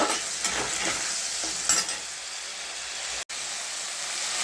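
Ginger, radhuni and mustard seeds sizzle in hot oil in a pan while being stirred, with a steady close frying hiss, a few scraping stir strokes and a brief cut near the end.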